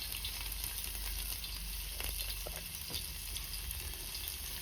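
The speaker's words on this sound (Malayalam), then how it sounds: "ഇതിൻ്റെ അകത്തേക്ക് നമ്മൾ ഇഞ്ചി വെളുത്തുള്ളി ഇടാൻ പോവാണ്" Chopped ginger and garlic sizzle and fry in hot oil in a pan, a steady crackling hiss with occasional sharper spits, fairly quiet and alone.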